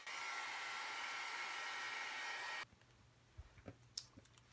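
A hair dryer blows over stamped tissue paper in a steady, close roar for a couple of seconds, then cuts off, leaving a few faint clicks and handling noises in a quiet room.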